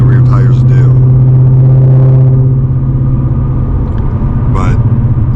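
Supercharged 2025 Ford Mustang GT with a Whipple blower, driving on the road with a steady, loud low engine drone and rumble filling the cabin throughout, a brief rise in revs near the end.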